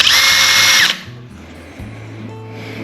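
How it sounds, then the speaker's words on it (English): A power drill whines loudly for about a second as it bores a hole through a table tennis ball, then cuts off, leaving low hum and faint handling noise. "on each end I'm going to drill a hole"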